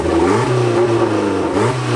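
A turbocharged Honda Civic engine from a $500 motor runs loud and close, rising and falling through revs with a steady rumbling tone and a brief dip near the end.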